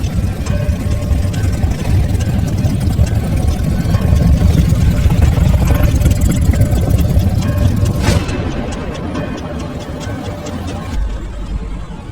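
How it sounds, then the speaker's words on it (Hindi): A steady motorcycle engine drones throughout at moderate loudness, its rumble easing slightly near the end. "मोटरसाइकिल की आवाज आई।"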